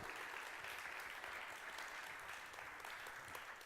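Steady crowd applause fills a church service, dense and continuous for the whole stretch at a moderate, slightly distant level with no voices rising above it.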